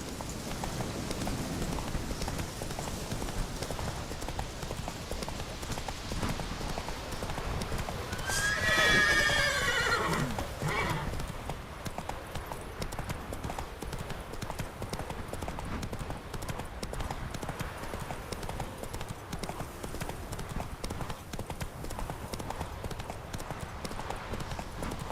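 Roach, the horse in The Witcher video game, neighs once in a brief, bright whinny amid steady galloping hoofbeats and a constant rain-like wash of ambient noise.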